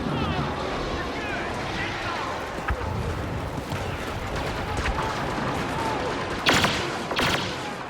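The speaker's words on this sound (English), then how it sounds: "The ships, the blasters, the explosions, everything is crisp and sounds authentic" Dense sci-fi action from Star Wars Battlefront 3 with whooshing ships, blaster bursts and a couple of sharp explosive blasts near the end, all layered over a constant rumble.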